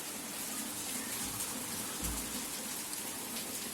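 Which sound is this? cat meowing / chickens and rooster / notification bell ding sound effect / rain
rain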